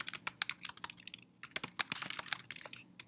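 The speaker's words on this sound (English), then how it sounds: "So I'm going to start typing to my tutor." Keystrokes clatter on a computer keyboard during an online tutoring chat, in quick irregular bursts with short pauses, close and fairly quiet, with no talk over them.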